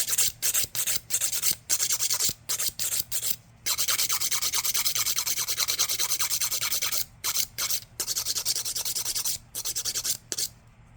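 An acrylic nail is filed by hand with a nail file, rapid back-and-forth rasping strokes up close, coming in quick runs broken by short pauses, with no talk.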